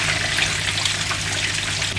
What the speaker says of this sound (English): I'm going to put some boiling water in.